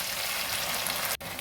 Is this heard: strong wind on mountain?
no